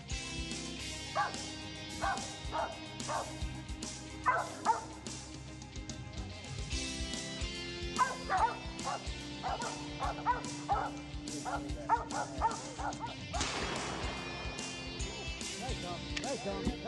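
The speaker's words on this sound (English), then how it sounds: "Well, Charlie, your dogs have been doing great." Hunting dogs bark and yip repeatedly in short bursts, some near and some farther off, with outdoor background noise and occasional voices mixed in.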